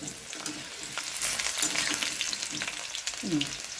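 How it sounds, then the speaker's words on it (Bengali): Potato pieces fry to a red-brown in oil, a close crackling sizzle with scattered pops and some light stirring clatter. "দেখুন কী সুন্দর লাল লাল করে আলু ভাজা হয়ে গেছে"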